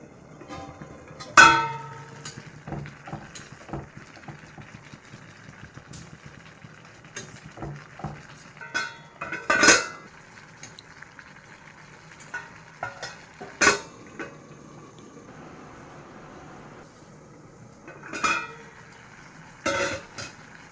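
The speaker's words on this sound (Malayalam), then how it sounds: "നമുക്കൊന്ന് ഇളക്കി കൊടുക്കാം" Jackfruit and raw banana upperi stirred in a pan, with intermittent sharp clanks of a spoon against the metal over a faint steady background hiss, mostly spaced-out single knocks.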